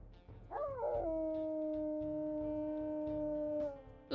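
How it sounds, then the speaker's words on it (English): A wolf howls in the video game WolfQuest, one long sustained wail that rises, then holds a steady pitch for about three seconds over a low, rhythmic background drone, heard alone without talk. "Let's also go ahead and listen to his howls. That's the classic nostalgia howl"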